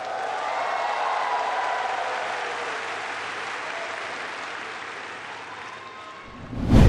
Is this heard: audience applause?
yes